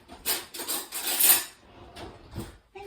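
A knife scrapes sticky Christmas scone dough off a spoon in a kitchen, giving a few close, metallic scraping strokes followed by lighter taps.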